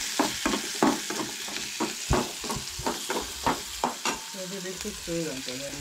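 Onion, garlic, beans and karpi lightly roasting in a pan for a Goan khatkate mixed vegetable stew, with a steady sizzle and repeated scraping stirs of a utensil, close and fairly loud.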